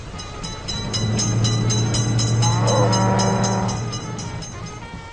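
An approaching train at a railroad crossing in a video game: a loud rumbling rail roar swells and fades, with a rapid ringing crossing bell and a horn blast in the middle.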